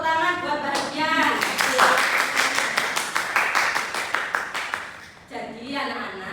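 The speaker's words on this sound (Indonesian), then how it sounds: "Tepuk tangan buat bahagian" Schoolchildren clap in a primary-school maths class, a brisk run of distinct, closely spaced hand claps that swells and then stops abruptly near the end, followed by a teacher talking.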